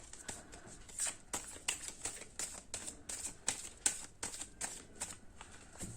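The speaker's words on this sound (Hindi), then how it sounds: "एक बार और शफल करती हूँ मैं" A deck of tarot cards being shuffled by hand, with quick riffling flutters and soft snapping taps in uneven bursts, close and fairly quiet.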